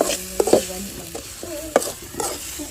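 Sliced okra for bhindi masala tipped into a hot pan, making a few clattering stirs and scrapes over a soft, steady sizzle, close and fairly loud with no talking.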